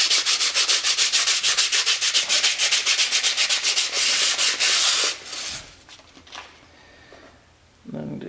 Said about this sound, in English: I'm going to try the wet dry, just real lightly, trying to see if I can get much of the rust to come